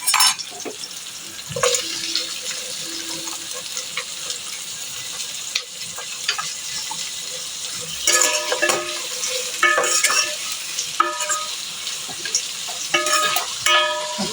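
Tomatoes being stirred and fried in a pan for chicken biryani: steady sizzling with repeated scraping and clinking of a utensil against the pan in irregular bursts, loud and close, with no talk.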